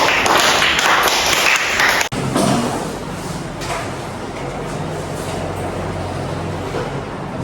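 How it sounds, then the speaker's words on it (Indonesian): Classroom applause of many hands clapping, a dense loud burst for about two seconds that cuts off abruptly, followed by quieter room noise. "Silakan tepuk tangan dulu."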